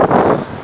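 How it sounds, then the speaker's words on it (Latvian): Strong gusting wind buffets the microphone outdoors in Portadown, a brief, loud, rumbling roar with no voices. "ļoti liels vējš"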